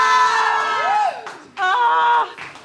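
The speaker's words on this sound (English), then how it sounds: "We're going to scream." A group of people at a New York wellness session screams together in sustained, wavering voices, with a short dip before a second loud burst of massed shouting.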